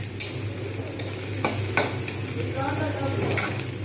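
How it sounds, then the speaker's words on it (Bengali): Sliced onions frying slowly in hot oil toward crisp, golden birista for egg biryani, a steady close sizzle with scattered stirring scrapes and soft crackles throughout. "আস্তে আস্তে কিন্তু পেঁয়াজ কিন্তু বেরেস্তা হতে যাচ্ছে"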